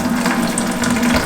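Coolant drains from a car radiator through a release valve into a bucket, a close, steady stream of running liquid with a gentle splashing gurgle across a brief moment.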